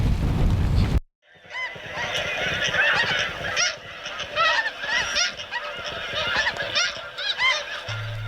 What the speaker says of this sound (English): So now we're hoping for some more snow geese.